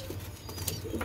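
A pair of Fulshira pigeons coo softly in a loft: low, faint murmuring coos repeated through the moment, with a few brief higher chirps and rustles.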